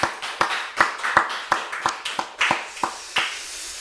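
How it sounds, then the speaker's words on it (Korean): A church congregation claps in a steady unison rhythm of about a dozen sharp, evenly spaced beats, loud and close in a reverberant room, with no talking. "우리 하나님께 영광의 박수 올려드리겠습니다."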